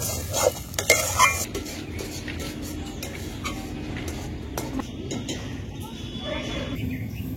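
A spoon stirs pea filling in a pan, scraping and clinking against the metal with a soft sizzle underneath, steady and close after a few sharper knocks at the start.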